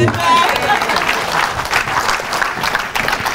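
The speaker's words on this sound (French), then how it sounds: "On acclame le Seigneur." A church congregation applauding during a sermon, a dense, steady wash of many hands clapping at close range that carries on without pause for the whole stretch.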